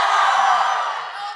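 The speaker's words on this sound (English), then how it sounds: "Keep whooping and cheering." Comic con panel audience whooping and cheering in a dense, loud crowd roar that holds steady and then eases slightly.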